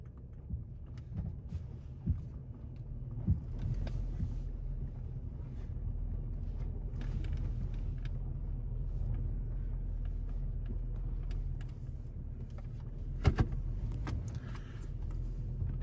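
A truck driving down a road, heard from inside as a steady low engine and road rumble with wind noise and a few brief knocks and clicks, no speech.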